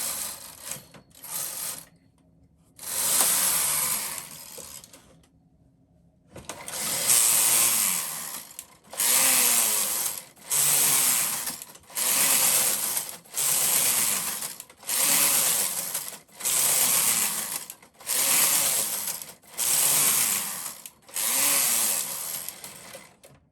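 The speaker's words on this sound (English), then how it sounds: "now I'm going to knit 2 rows again" A Brother KH-950i knitting machine carriage runs back and forth in lace work, giving a loud, steady series of whirring, rattling passes of about a second each, separated by brief pauses, close up and with no talk.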